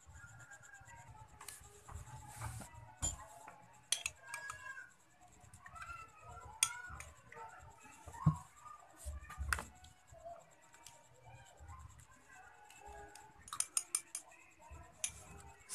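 A small brush scrubs a roller-type lip tint cap with water, making faint, close scratchy strokes broken by light clicks and clinks of plastic, with sparse quiet moments between bursts.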